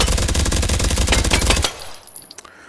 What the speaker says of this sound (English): Now, very fast firing SMG here